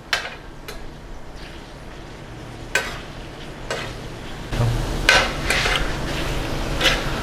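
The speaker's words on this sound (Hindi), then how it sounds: "और अभी ये कलेजी को थोड़ी देर हम लोग भूनेंगे" Goat liver (kaleji) frying on a tawa, with a steady close sizzle punctuated by sharp metallic scrapes and taps of a spatula that grow busier and louder in the second half.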